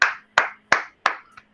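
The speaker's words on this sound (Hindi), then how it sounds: "इन जिन लोगों का नाम लिया उनके लिए तालियां," Four sharp, evenly spaced hand claps ring out close by in a class, each with a short decaying tail, followed by a faint softer tap.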